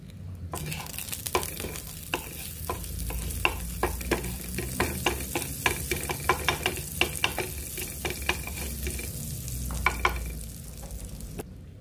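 Butter sizzles in a frying pan while chicken is browned, with a constant close frying hiss punctuated by many sharp spatula scrapes and taps in an irregular rhythm.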